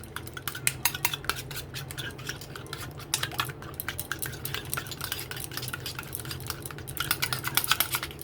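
Two egg yolks are beaten briskly in a bowl for chicken capsicum buns, a fast, steady run of close clicking taps from the utensil against the bowl with no voices.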